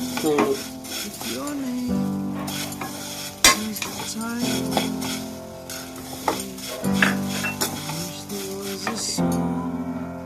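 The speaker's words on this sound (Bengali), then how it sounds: "এটাকে আরও ভালো করে ফ্রাই করে নিলাম এবার দেব এক বাটি চিনি" Sugar is stirred into vermicelli fried with cardamom in a pan: repeated close metal clinks and scrapes of the spoon over a constant sizzle, with a faint tonal hum in the background.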